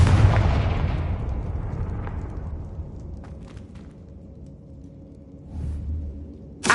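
A Confringo blasting spell in the Hogwarts Legacy video game bursts with a loud explosion that rumbles and slowly fades, followed by a few faint pops and a low thump near the end.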